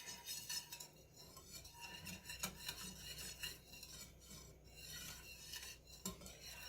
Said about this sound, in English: All right, let's stir it and see what the consistency is.